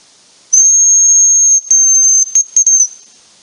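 A thin, high, steady hazel grouse decoy whistle held for about a second, then repeated with short broken trills at the end, clear and close, in a forest.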